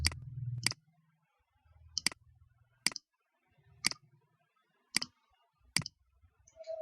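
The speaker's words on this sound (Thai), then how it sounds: "ค่ะก็ไปคลิกที่ create network นะคะแล้วทำการจุดขึ้นมาสิบจุด" Sharp, close computer mouse clicks land one at a time at a slow, uneven pace, about seven in all, while points are placed in GIS network software, with faint rustling between them in an otherwise quiet room.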